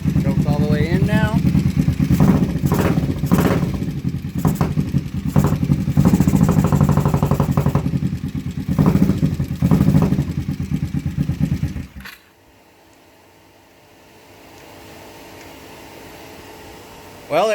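A Vulcan 500 motorcycle engine runs loud and steady for about twelve seconds with choke fully in, a rough idling drone that cuts off abruptly into near quiet before a brief noise at the end.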